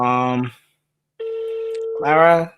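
A phone rings with a steady electronic tone during a live talk stream, heard in a gap between bursts of nearby voices.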